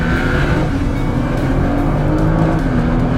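A Nissan GT-R accelerating hard onto the pit straight at Spa during the Spa Classic, heard from inside: a loud, continuous engine roar rising through the gears with faint tire noise, no talking.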